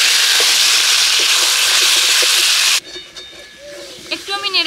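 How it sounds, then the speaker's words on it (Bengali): Potatoes with tomato, dried chilli, ginger paste, turmeric and salt sizzle loudly in a pan with a dense, hissing fry that stops abruptly partway through, leaving quiet handling sounds and faint voice-like tones. "এবার আলুর সঙ্গে মশলাটা ভালো করে কষিয়ে নেব।"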